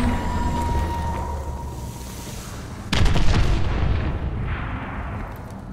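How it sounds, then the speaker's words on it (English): Enemy missile strikes in Call of Duty: Advanced Warfare, a distant rumbling barrage followed by a sudden loud explosive impact that rolls on and slowly decays into a lingering low roar. "Enemy missile strikes."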